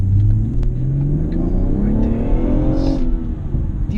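A 2017 BMW 440i M Performance accelerating at full throttle with traction lost: a loud, close engine drone rises steadily in pitch, with a rumbling low end, no voices.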